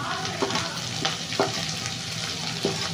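Ginger, onion, garlic and curry leaves sizzle steadily in hot oil, a loud, continuous fry with occasional clacks of a stirring spoon.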